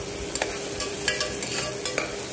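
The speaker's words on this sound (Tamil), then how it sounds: "எண்ணெய் காஞ்சதும் ஒரு பிரியாணி இலை, சின்ன பட்டை ஒன்று, கிராம்பு ஒன்று, ஏலக்காய் ஒன்று, எல்லாத்தையும் சேர்த்து நல்லா வதக்கிக்கலாம்" Bay leaf, cinnamon, clove and cardamom sauté in hot oil, a constant close sizzle with rapid light spatula scrapes and ticks repeating every fraction of a second, no voices.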